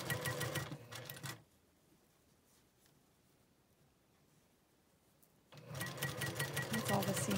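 A sewing machine stitches a seam on a tiny quilt block. It runs in a rapid, close whirring burst, goes quiet for several seconds, then starts up again in a second burst.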